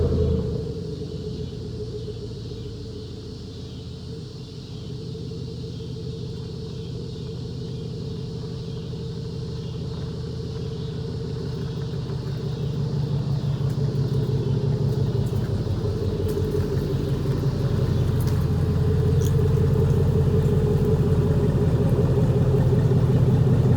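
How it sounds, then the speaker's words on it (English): A truck rolls in slowly for a control arm install, its engine a steady low rumble that grows gradually louder and closer over about twenty-four seconds, with no talking. "let's go ahead, pull the truck in"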